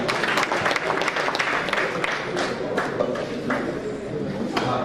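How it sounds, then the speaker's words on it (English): Steady applause from a large crowd at a community meetup in Lagos, dense clapping held at an even level for the whole stretch, with a few louder claps standing out near the front. "please give a round of applause to him"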